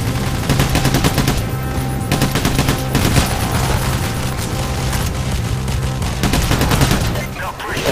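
Heavy gunfire from Payday: The Heist rattles nonstop, overlapping automatic bursts and booming shots layered over game music, loud and dense throughout the battle.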